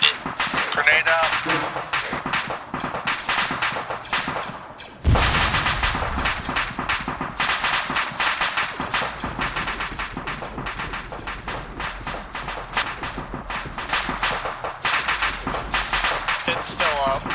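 A grenade goes off during a night assault in a Star Wars Clone Wars video game, a sudden loud booming blast in the middle of continuous rattling gunfire, with players talking throughout.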